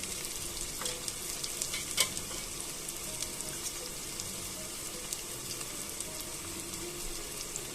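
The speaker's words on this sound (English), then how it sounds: "Saute it well" Chopped tomato sauteing in a pan as the base for Kerala village-style coconut fish curry, an even, close sizzle running throughout with light utensil clicks and stirring scrapes.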